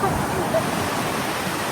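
A waterfall roars as a loud, steady broadband rush of falling water, unbroken and close throughout.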